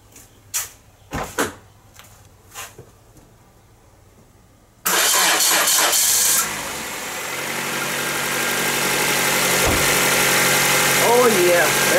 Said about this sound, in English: Let's see if this can start my car.